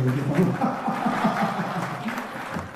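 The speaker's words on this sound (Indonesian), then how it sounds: "tepuk tangan yang luar biasa" An indoor audience at a motivational talk in Amsterdam applauding, a short burst of clapping mixed with chuckles and murmuring voices underneath.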